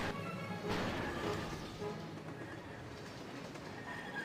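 Train riding in The Polar Express video game, a steady rolling rumble of rail cars with a louder clatter near the beginning that fades into continuous track noise.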